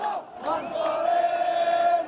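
A large crowd of protesters at a 2002 Middle East demonstration cheers and shouts in a steady roar, with one long sustained cry rising above the mass of voices.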